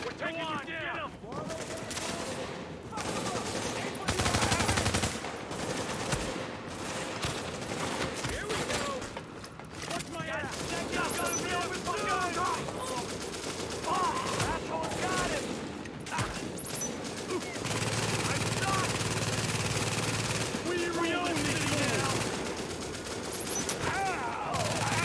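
Gunfire in The Division on Xbox: dense bursts of rifle and machine-gun fire rattle almost continuously, loud and close, with explosions and game effects mixed in.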